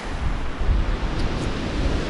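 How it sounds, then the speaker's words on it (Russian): Sea waves wash against a very short breakwater by a beach, a continuous rough surf wash with wind rumble, steady and fairly close with no voices. "Заходят сюда волны."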